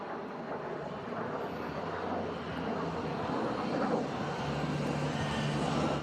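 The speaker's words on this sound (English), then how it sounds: "KC-135" KC-135 jet aircraft flying at an air show, a steady distant roar filling the whole span with no talk over it.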